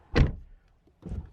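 A Maserati Levante SQ4 rear door closing: a solid close thump, then a second softer thud about a second later as the cabin settles.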